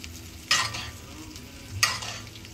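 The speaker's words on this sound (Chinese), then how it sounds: "然后现在就是把它这个牛排放在这一侧，把它刚才用黄油烤的汁集中在这里，" A steak sizzles in a pan while butter juices are spooned over it, with a steady low frying hiss broken by two brighter bursts of sizzle as the hot butter hits the meat.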